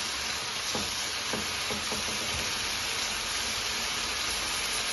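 Chicken liver fries on a tawa with a steady, close hiss, and a few soft clatters mark sliced tomatoes dropping into the hot pan. The sizzle carries on without pause and no one speaks.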